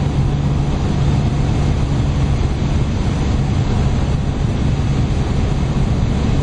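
Supercharged 3.6-litre Lotus Omega cruising in sixth gear at around 2600 rpm, a steady low engine drone blended with constant road and wind roar, unbroken and fairly loud throughout.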